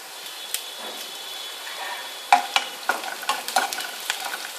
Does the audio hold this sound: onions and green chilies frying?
yes